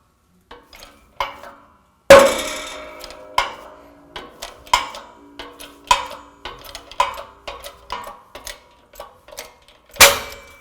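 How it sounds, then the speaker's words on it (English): A shop press forcing the front wheel hub out of the steering knuckle of a 2000-2007 Ford Focus: a series of sharp metallic clicks, creaks and pops at irregular intervals, with a loud crack partway through and another near the end. "With the knuckle set up in a press, we need to press the hub straight down, push that out first."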